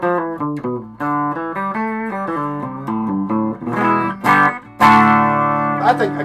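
Electric guitar played through a Peavey Raptor Plus EXP amp with reverb on, a clean run of picked single notes and chords that rings out and builds toward louder, fuller strums near the end.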